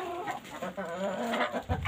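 Chickens cluck and murmur nearby as they are fed grain outdoors on a warm day, giving soft, busy calls in a brief burst with no talking.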